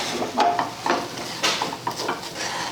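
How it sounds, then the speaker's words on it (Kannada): Boondi pearls are stirred through sugar syrup in a pan for motichoor ladoo: a steady wet scraping and sloshing, close and fairly loud, with soft metallic taps as the spoon sweeps around. "ಇದು ಬೂಂದಿ ಕಾಳು ಸಕ್ರೆ ಪಾಕ ಜೊತೆಗೆಲ್ಲ ಚಲೋ ಹೊತ್ತಿಗೆ ಮಿಕ್ಸ್ ಆಗ್ಬೇಕು ರೀ."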